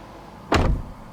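A Toyota 4Runner door opens with a single short mechanical clunk and latch release, close and brief over quiet cabin background.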